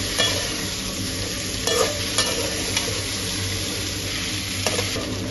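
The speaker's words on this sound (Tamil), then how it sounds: "அடுத்தது கோவக்காய் சேர்த்திடலாம்." Ivy gourd pieces fry in a pan with tomato, giving a steady close sizzle throughout, with occasional scrapes and clinks of a spoon stirring.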